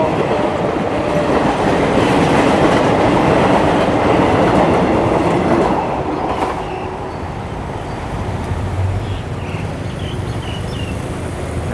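A train rumbles past a railroad crossing in Thailand at close range with a steady, loud roar and faint rhythmic wheel clatter, easing slightly toward the end.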